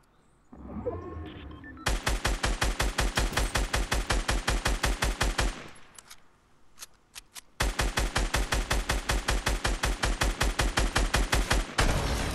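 Automatic weapon fire in the Fortnite Battle Royale video game, long rapid bursts of loud, evenly spaced shots, a brief pause with faint sounds, then another sustained burst.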